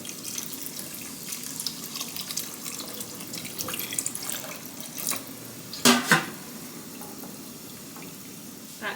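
Tap water runs steadily into a pot while a lamb pepper soup is being cooked, a soft continuous stream with a brief louder splash partway through and no talking.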